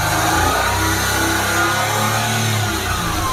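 A car engine held at high revs, around 5000 RPM, to charge the battery. A loud, steady, close roar with a slight waver in pitch runs through the whole stretch.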